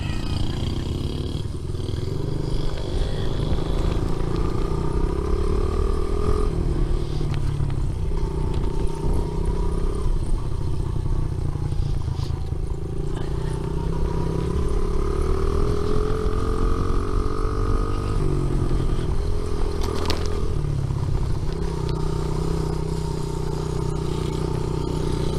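A small Honda pit bike engine buzzes steadily as it is ridden outdoors, its pitch rising and falling with throttle changes and holding a constant close, loud drone throughout.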